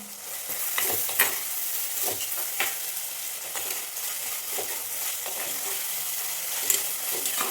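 Tomato and green chili sautéing in a pan for a shark fish curry, a steady close sizzle with occasional stirring scrapes and clinks of a spoon, no voices.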